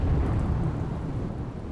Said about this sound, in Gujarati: એક કલાકમાં એક ઇંચથી વધુ વરસાદ